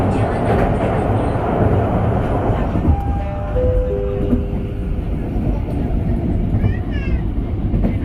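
Indonesian Blorasura commuter line train running on rails between Benowo and Bojonegoro, a steady loud rumble throughout with a brief whine, heard from inside the carriage.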